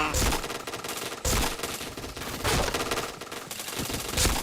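Machine gun fire in a shooting video game, loud sustained automatic bursts separated by brief gaps, repeating across the whole stretch with a voice faintly mixed in.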